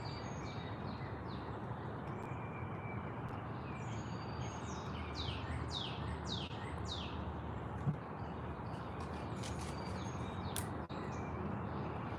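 Several birds chirp and trill outdoors in the morning over a steady low background hum, their calls coming in short bursts throughout.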